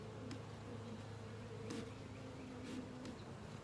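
Bees buzz around an open backyard hive in a soft, steady hum, with a few individual insects droning a little closer now and then, and no voices.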